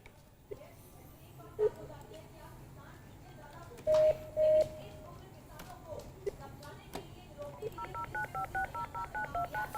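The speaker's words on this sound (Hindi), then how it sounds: "नवेद इस वक्त योगेंद्र यादव को फोन लगा रहे हैं" Telephone keypad tones beep while a call is placed, several single tones early on and then a fast run of evenly spaced beeps near the end, with people talking underneath.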